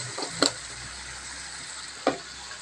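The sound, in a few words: stirring food frying in a pan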